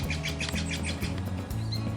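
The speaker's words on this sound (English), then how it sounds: "You're a friendly bird." A friendly wild bird chirps outdoors by a table in a run of quick, bright tweets, then a lone later call, near and clear over a steady low hum.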